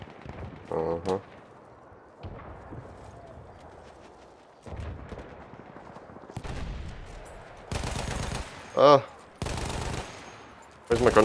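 Bursts of rifle and machine-gun fire in a Battlefield 1 team deathmatch, loud separate volleys spaced a second or two apart with sharper cracks among them, broken by stretches of quieter battlefield ambience.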